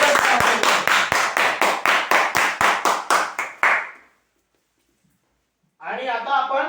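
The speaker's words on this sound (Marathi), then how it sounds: "एकदा जोरदार टाळ्या" Loud crowd clapping at a prize draw event for a marketing shop, a dense burst of applause for about four seconds that stops abruptly, followed by silence and then a voice speaking.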